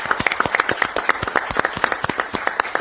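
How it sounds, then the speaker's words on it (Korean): Participants at a Korean party policy coordination meeting, the floor leadership team's last session, clap together in a brisk, close, steady burst of applause with no talking. "박수 한번 하시죠, 같이"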